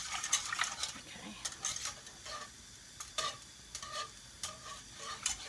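Chicken and vegetables cooking in a pan, with a soft sizzle broken up by repeated stirring and light scrapes of a utensil against the pan, fairly close and quiet.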